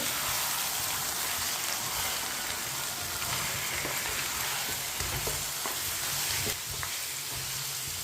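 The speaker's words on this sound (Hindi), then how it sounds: "गोश्त को मैंने अच्छी तरह मिक्स कर लिया है। अब इसे 4 मिनट के लिए भून लेंगे।" Beef frying in a karahi, a steady dense sizzle with scattered stirring scrapes of a spoon, close and loud throughout with no talking.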